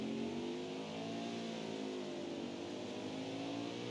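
A race car engine revs hard and steadily during a road-course stock car race at Indianapolis, a loud, sustained harmonic drone rising and falling slightly throughout, close and continuous with no talk.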